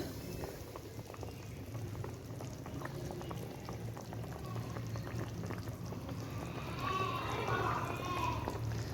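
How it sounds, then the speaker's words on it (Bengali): Rohu fish curry with potato and cauliflower bubbling at a full boil in a pot, a steady dense simmering crackle that swells slightly louder near the end, with no talking. "তো দেখো ভালো করে বলক চলে এসছে"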